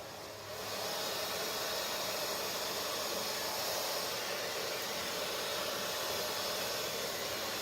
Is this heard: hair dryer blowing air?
yes